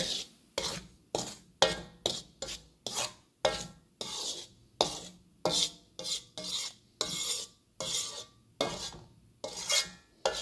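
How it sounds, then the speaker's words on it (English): Roasted chickpea powder being stirred in a pan, a steady run of rasping scrapes at a regular rhythm, loud and close with brief gaps between strokes. "This is the roasted chickpea powder, that is also being roasted."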